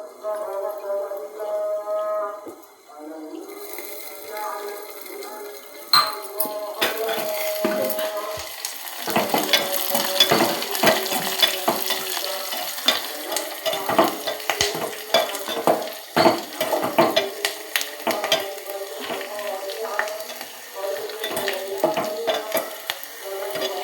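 Tempering spices crackling in hot oil for gongura dal, starting with a quieter hiss and then swelling into a loud, busy sizzle with repeated stirring scrapes against the pan.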